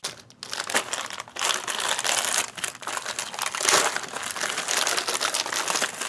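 Double-bagged plastic MRE pouch, a vegetarian penne ration, being torn and pulled open by hand: steady close crinkling and crushing of plastic with sharper rips, continuous for several seconds with no talking.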